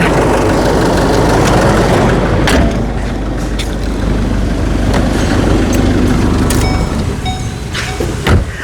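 A 2012 Chevrolet Colorado Smart Cab pickup with a 2.5-litre diesel engine idles loudly and close by, a rough, steady rumble with a few scattered clicks and knocks.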